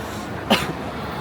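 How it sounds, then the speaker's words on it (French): A single short cough indoors at the entrance of a Bangkok building, one brief burst standing out against a steady background murmur. "Ça m'a fait tousser quand même."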